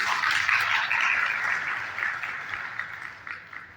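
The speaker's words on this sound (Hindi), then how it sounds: "तो एक बार अपने सम्मान में तालियां होनी चाहिए।" Applause from the audience at a comic poetry gathering organised by a Lions Club in Bilaspur, a warm, continuous round of clapping that starts full and slowly tapers off.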